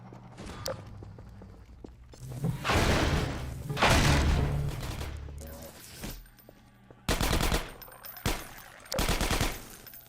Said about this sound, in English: It's a gunship.